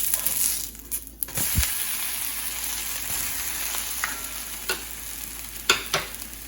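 A dosa sizzles steadily on a hot pan after being flipped, a close, continuous frying hiss with a few sharp scrapes and clicks of a spatula near the middle and end.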